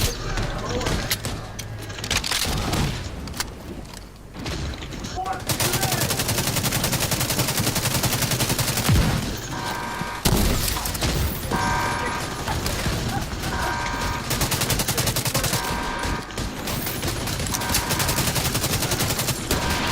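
Gunfire and shell explosions, dense bursts of shots and booming blasts that come loud and continuous, with radio-style talk at times over the fire.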